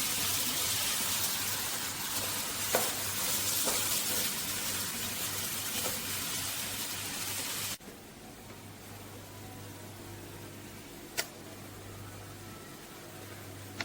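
Rice roasting in a hot pan for mutton biryani gives off a steady, soft sizzling hiss with occasional stirring clicks; the hiss drops noticeably quieter partway through.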